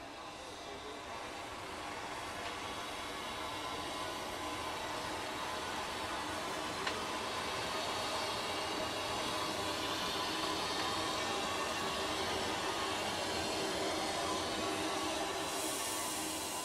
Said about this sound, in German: Unsere 86er rollt für die Rückfahrt nach Heringsdorf wieder vor den Zug